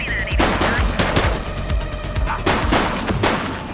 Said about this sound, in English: police are engaged in a fierce shootout following yet another bank robbery